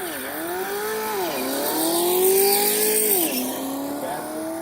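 Cars launching in a drag race, engines roaring and rising in pitch through gear changes, with a sharp dip and re-climb midway; loud, close and continuous with no talking.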